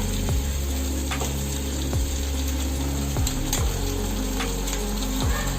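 Paneer chilli with spinach frying in a pan just after tomato sauce is added, giving a continuous loud sizzle with periodic scraping strokes of a stirring spoon close by.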